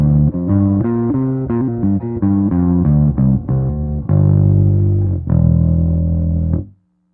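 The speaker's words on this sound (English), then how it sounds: "So the neck pickup with the tone rolled down. So this will be the nice warm tone." A Firefly jazz bass played through the neck pickup with the tone rolled down gives a warm, rounded run of plucked notes, clear and close, ending on a sustained note that stops sharply.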